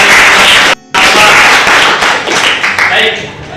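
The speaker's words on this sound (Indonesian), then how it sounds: "Oke, tepuk tangan." Classroom applause from students, a short loud burst of clapping that cuts off briefly, then resumes and fades under a few voices, close by.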